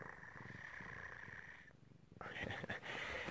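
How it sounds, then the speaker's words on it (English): A low, steady purring rumble from a sleeping cat, fairly close, with a brief quiet gap before it resumes; faint voices murmur around it. "You can probably hear it purring."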